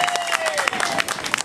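Festival audience applauding a singer as she is introduced at an evening concert, a dense steady wash of clapping, with a sustained tone running beneath it.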